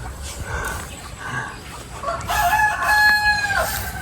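A rooster crows loudly and nearby on a rural provincial farm, one drawn-out call rising over softer clucking and farmyard background noise.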